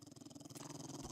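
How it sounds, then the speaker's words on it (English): A dog growls steadily in the video game 7 Days to Die, a continuous low rumbling snarl held close and fairly loud throughout. "Oh, that's a dog."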